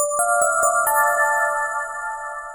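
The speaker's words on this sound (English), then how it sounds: "I really wanted that bell sound to just shine through as its own thing" Bright FM-synth bell notes from an EFM1 synthesizer struck in a quick run of four or five, then ringing on with sustained, shimmering delay tails.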